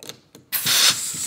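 A rack and pinion actuator shifts as air is applied: a couple of short mechanical clicks, then a loud rushing hiss of air with grinding movement, close up and brief.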